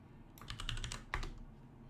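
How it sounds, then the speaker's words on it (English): Keys clattering on a new computer keyboard, a quick burst of close, crisp clicks followed by a louder cluster of strikes, with no talking. "Again, I am dealing with new keyboard."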